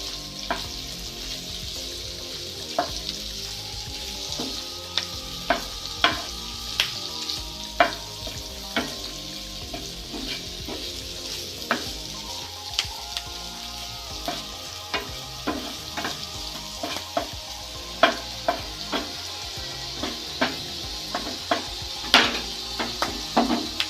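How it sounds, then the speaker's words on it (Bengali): Oil fries steadily with a constant sizzle, broken by frequent clicks and scrapes of a spoon stirring the pan. "খুব কড়া করে ভাজবো না এগুলো, একটু লাল রং ধরলেই একটু তুলে নেবো এগুলো আমি।"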